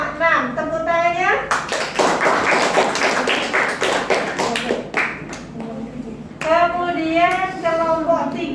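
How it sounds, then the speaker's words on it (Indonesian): Children in a classroom break into a burst of quick, rhythmic clapping that lasts several seconds, framed by a teacher speaking before and after. "Tepuk tangannya."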